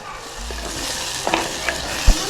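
Curry leaves crackling in hot oil in a cooking pot with onions fried light brown, a steady close sizzle with a few sharp pops and a thud near the end.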